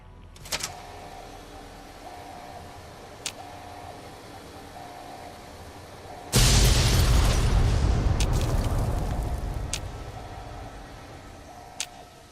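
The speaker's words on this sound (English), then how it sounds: "Why is everything still exploding?" A loud, sudden burst of video game explosions erupts partway through, rumbling and crackling before fading over several seconds, with a few sharp pops and tones before and after.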